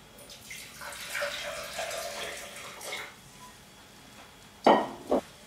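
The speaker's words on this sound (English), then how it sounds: "now that the mixtures have cooled down, we're going to pour it into our jug" Cooled herbal mixture of sage, rosemary and ginger is poured into a jug, giving a few seconds of soft splashing liquid, followed by two sharp clinks of the container, close and moderately quiet.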